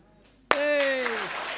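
Conference audience at a volunteering event clapping together once in a single sharp, loud burst, followed by a sustained shouted voice ringing out after it.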